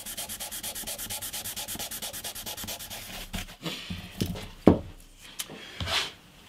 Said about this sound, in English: And finally, polish it up with some 1200 grit.